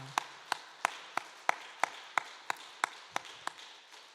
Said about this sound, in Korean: 우리 귀한 찬양 하나님께 영광의 박수를 올려드립니다.